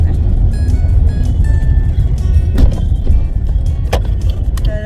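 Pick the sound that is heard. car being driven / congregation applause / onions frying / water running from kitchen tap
car being driven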